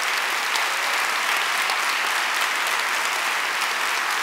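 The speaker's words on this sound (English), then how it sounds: "So let's give a round of applause to all of our candidates here." A crowd at a mayoral candidates' debate in a university hall gives a sustained round of applause, dense and even from start to finish with no voices over it.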